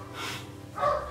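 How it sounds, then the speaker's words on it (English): Dogs at home give a couple of short, muffled woofs, one low and breathy and a sharper one just after, heard at moderate distance and fairly quiet. "Our dogs are barking, that's awesome."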